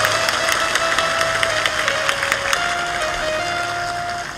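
Audience applause at a religious storytelling gathering, a steady dense clapping from a crowd that stays loud and fairly even, slowly thinning toward the end, with a faint tonal hum beneath.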